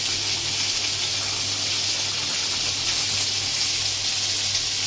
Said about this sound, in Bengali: ফুটছে, এই জন্য একটু কমিয়ে দিলাম আমি।